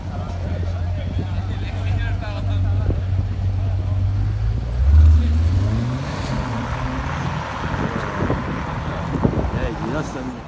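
A car accelerating past on a Paris street: a loud, low engine note that swells and rises before fading away, heard over constant traffic and street bustle, with people talking nearby.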